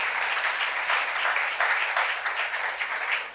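Church congregation at a Korean youth service claps in sustained, dense applause, steady and fairly loud throughout with no voices over it.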